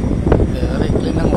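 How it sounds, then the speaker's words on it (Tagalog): Wind gusts across the seaside on Samal Island, a steady broadband rush and buffeting close to the microphone for the whole stretch, with faint voices in the background. "The climate is very windy."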